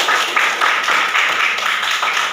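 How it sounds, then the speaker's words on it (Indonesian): A classroom of students claps hands in a quick rhythmic pattern of roughly eight or nine sharp, close claps with no talking. "Oke, tepuk tangan."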